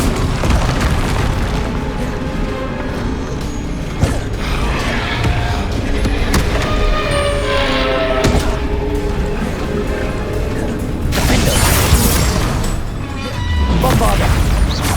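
Spell explosions from Bombarda casts in Hogwarts Legacy, booming and creaking blasts with crackling debris over a dense battle din, with a loud burst near the end and voices mixed in throughout.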